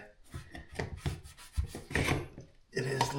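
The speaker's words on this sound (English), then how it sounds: "taking this trim off and trying to pull this floor apart" Close, quiet creaking, scraping and rubbing of wood as trim is pried off and flooring boards are worked apart, in irregular short bursts and strains.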